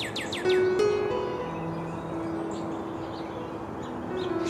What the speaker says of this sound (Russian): Кругом птицы суетятся.